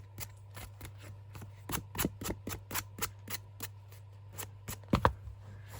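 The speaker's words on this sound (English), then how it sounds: "I'm just gonna sand the edges and down the fold" A paper card wallet has its edges and fold sanded by hand: a run of quick, crisp rasping strokes, each short and distinct, speeding up and growing louder before a final burst, over a low steady hum.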